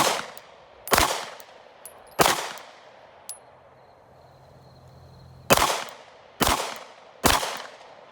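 A Glock 45 pistol fires at a shooting range, six sharp, loud reports spaced unevenly about a second apart, each with a short ringing decay and faint background hum between shots.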